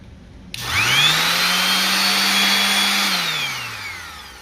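A DeWalt DWE6421 5-inch random orbit sander starts with a sharp click, spins up to a steady loud whirring whine, holds for a few seconds, then begins winding down as it is switched off, with no talking.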